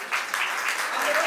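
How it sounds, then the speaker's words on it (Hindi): Brief burst of enthusiastic clapping from a crowd at a Jain temple celebration of Kshamavani, dense and fairly loud with a voice faintly audible beneath it. "तो जोरदार तालियां"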